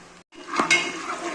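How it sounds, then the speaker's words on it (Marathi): Khichdi ingredients sauté in a hot pan, with a soft sizzle, a quick scrape and clink of the spoon, and a brief gap before the frying resumes, close and fairly quiet. "हे बघा चांगलं परतून घेते मी।"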